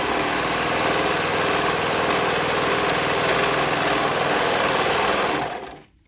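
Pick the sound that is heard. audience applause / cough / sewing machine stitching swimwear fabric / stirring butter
sewing machine stitching swimwear fabric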